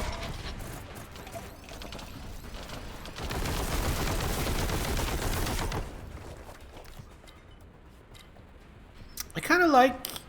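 Heavy bolter gunfire in Warhammer 40,000: Boltgun roars as a sustained, dense mechanical barrage for a few seconds. It sits amid game effects and a voice, then ends in a louder warbling blast.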